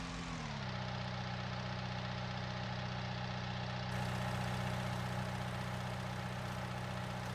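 A big John Deere tractor engine runs in Farming Simulator 19 as a steady, low mechanical drone. Its pitch shifts slightly at the start, then it holds an even idle throughout, fairly quiet and with no talk.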